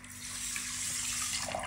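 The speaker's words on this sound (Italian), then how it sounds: "metto il riso nella pentola e aggiungo 360 grammi di acqua" Water streams steadily from a tap into a pot of rinsed basmati rice, a close, continuous rushing pour that fills the short moment alone.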